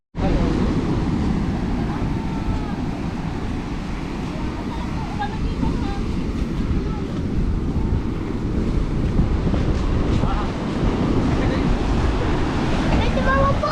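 Strong sea waves crashing at a beach, a loud continuous roar of surf mixed with heavy wind buffeting the microphone, with voices talking faintly through it.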